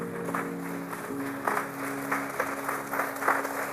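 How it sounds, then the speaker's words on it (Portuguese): A church congregation applauds steadily for a few seconds, a dense patter of clapping with a sustained organ or keyboard chord held underneath, moderately loud in a large room. "Vamos aplaudir o nome de Jesus?"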